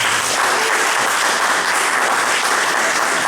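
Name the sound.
audience applause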